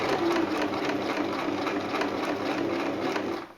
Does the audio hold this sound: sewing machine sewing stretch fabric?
yes